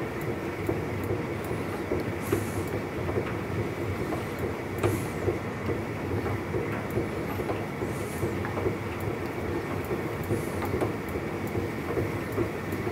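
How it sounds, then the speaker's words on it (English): A beekeeping honey extractor centrifuge spins while honey slings against the inside of the drum. A steady, moderately faint mechanical rumble and whir runs throughout, with light rhythmic ticking and no voices. "you can see the honey sticking to the inside of the centrifuge now. You can hear it slinging against there, just threads of it."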